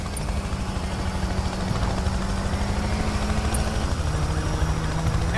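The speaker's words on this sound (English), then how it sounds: "Damn it, the chopper's on me now." Police helicopter in the racing game Need for Speed Payback, a continuous rotor drone and whine hovering steadily overhead, loud and unbroken with no voices.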